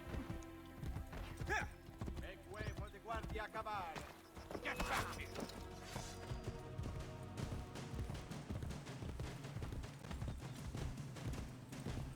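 Rhythmic clip-clop of horse hooves in Assassin's Creed Brotherhood, quick and steady, under game music and effects, with a short whinny early on.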